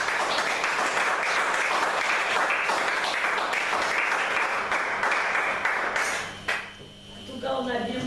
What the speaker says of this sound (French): On va acclamer la parole de Dieu.